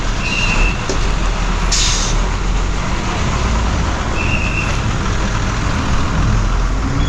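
Konkan Kanya Express passenger train pulling away toward Nivli, a steady low rumble with a broad hiss above it that holds close and constant throughout, with no talking.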